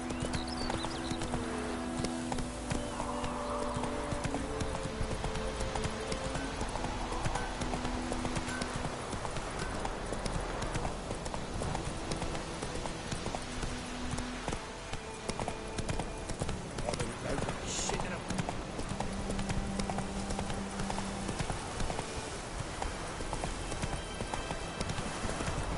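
The horse Roach gallops steadily in The Witcher 3: Wild Hunt, with continuous rhythmic hoofbeats and an occasional whinny over rain and ambient game sound, sustained throughout.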